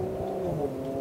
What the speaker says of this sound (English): And there's a car.